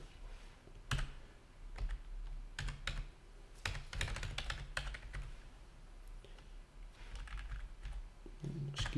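Typing on a computer keyboard with an AZERTY layout: bursts of sharp, close key clicks separated by short pauses, irregular in rhythm, with no talking.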